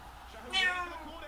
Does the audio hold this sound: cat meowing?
yes